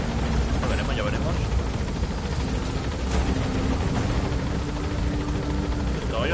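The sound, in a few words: helicopter in the video game Metal Gear Solid V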